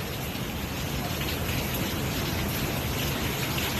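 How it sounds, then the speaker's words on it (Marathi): Heavy rain falling, a dense, loud, unbroken roar of water that fills the whole stretch with no letup. "भयानक पाऊस चालू आहे इकडं"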